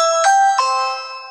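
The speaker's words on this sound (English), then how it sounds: "Doorbell push, timing test." A Ring Video Doorbell Pro 2 chime answers a button push with two clear, bright electronic tones, one after the other, then a ringing tail that fades slowly, heard alone in a quiet room.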